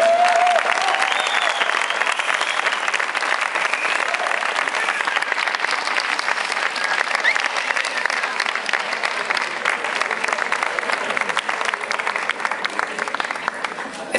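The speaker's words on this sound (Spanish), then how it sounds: "Fuerte aplauso para ellos." An audience applauds performers at a live comedy and music show in Chinchilla. Loud, thick, sustained clapping fills the full fourteen seconds, with a brief voice heard at the very start.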